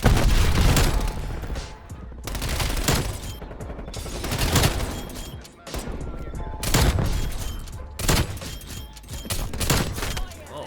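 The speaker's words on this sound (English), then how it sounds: "I never use these airstrikes, but I'm gonna do it." Airstrike explosions in a video game shooter featuring a paintball MP5: a dense run of loud booms and blasts bursting one after another over about ten seconds, with gunfire mixed in and brief voices underneath.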